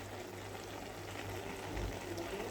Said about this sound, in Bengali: এখন একটু আমি জিরার ফাঁকি দিয়ে দিচ্ছি